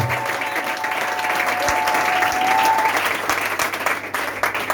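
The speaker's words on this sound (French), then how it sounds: "Est-ce que tu peux acclamer très fort le Seigneur?" A church congregation claps and cheers loudly and steadily, a dense wash of applause with a few voices rising above it and a faint sustained tone underneath.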